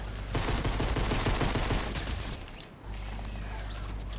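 Rapid submachine-gun fire from a Fortnite-style video game shootout pours out loud and continuous for about two seconds, then breaks off into a dense mechanical rattle and game noise.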